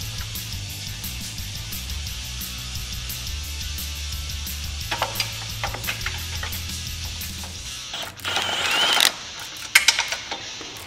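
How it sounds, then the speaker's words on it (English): Wrench turning a nut off the inner radius arm hardware on a Polaris RZR Pro R, giving a steady ratcheting, mechanical rasp followed by a few louder clanks and metallic knocks near the end. "Remove the nut."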